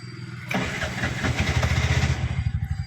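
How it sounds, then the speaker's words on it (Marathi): An auto rickshaw's starter cranks and its small engine catches with a loud burst, then settles into a close, fast, throbbing idle, with no talk over it. "आता बघा परत तुमच्यासमोर एकदा स्टार्ट करतो"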